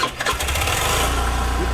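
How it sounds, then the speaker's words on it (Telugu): A vehicle engine near Nandi Hills cranks and catches, then settles into a steady, loud, low-pitched running rumble that continues to the end. "బండి పోవట్లేదు, స్టార్ట్ చేయాలి గైస్."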